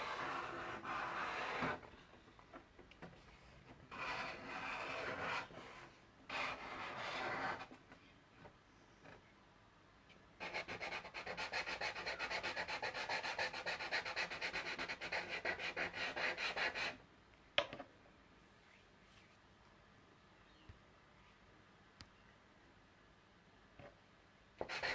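Charcoal rubs and scratches across paper during drawing, heard close and soft in bursts of strokes with pauses between them. One longer stretch of steady rubbing comes near the middle, followed by quieter gaps.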